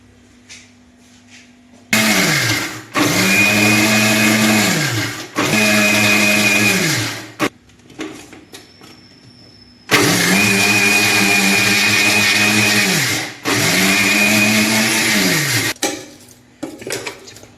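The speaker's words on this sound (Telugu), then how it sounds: "మూత పెట్టేసుకుందామండి మిక్సీ వేసుకుందాము" A mixer grinder whirs loudly in several bursts while grinding dried red chillies for mango pickle, each starting and stopping abruptly, with brief quiet gaps and a clatter between runs.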